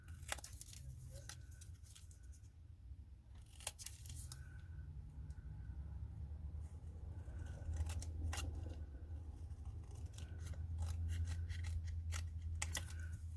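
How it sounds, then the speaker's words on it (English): Scissors snip repeatedly through a paper card for a special envelope, trimming it narrower, with close, crisp cuts in irregular bursts over a steady low background hum and no speech. "I'm just gonna come in here and trim it just a little bit more"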